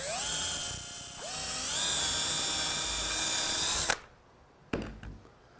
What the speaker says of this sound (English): Start by drilling holes on both sides of our pilot bit.